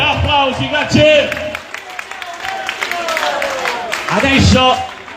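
Audience applause at a live concert by Gigione in Cassino, scattered clapping and crowd noise mixed with a voice talking and musical tones, rising again near the end.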